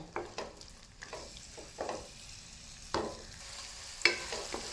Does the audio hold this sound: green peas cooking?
yes